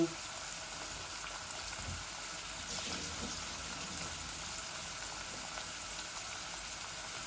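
Meat for curry sizzles and fries in a pot, a steady hissing crackle that carries on evenly throughout with faint stirring noises.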